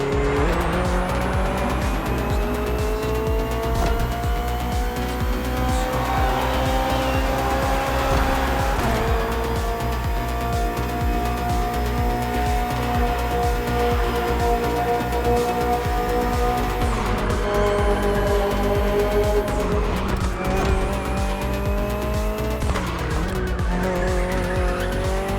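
A BMW M Hybrid V8 endurance race car from 2023, built for events like the 24 Hours of Le Mans, roars continuously in The Crew Motorfest, its engine note rising and falling through gear shifts with tire squeal and skids, loud and close.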